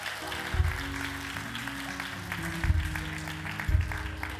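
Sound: audience applause in church

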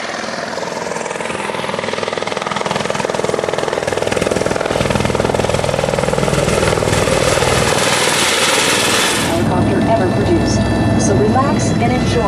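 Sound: helicopter flight over Niagara Falls

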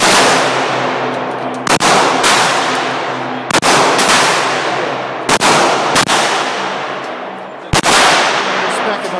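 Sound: Saiga 12 shotgun with 20-round drum firing

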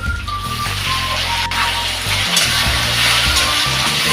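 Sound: grated raw mango added to sizzling tempering

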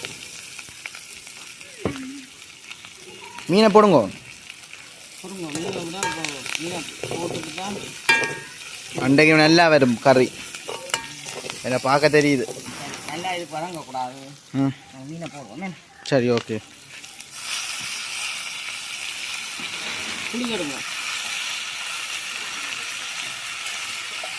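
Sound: fish frying in oil

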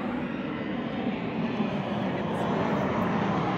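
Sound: airplane flying overhead

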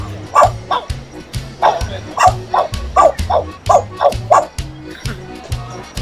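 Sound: parrot imitating a dog growling

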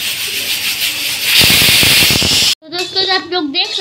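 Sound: mustard oil hissing in a hot pan

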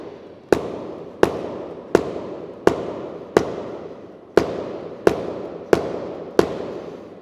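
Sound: baseball pounded into wet leather glove pocket

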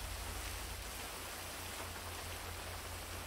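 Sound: rain falling in a video game

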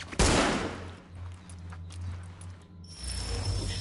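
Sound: gunfire in the video game The Division

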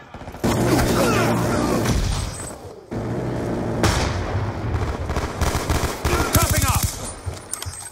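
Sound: gunfire in video game Call of Duty Black Ops 2

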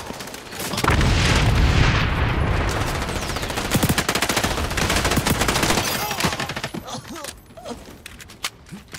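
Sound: grenades and gunfire in the video game XDefiant

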